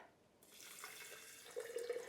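Filtered water streams from a tap into a jar of soaking seeds after a brief quiet moment, a steady, close splash that turns into a bubbling gurgle near the end as the jar fills.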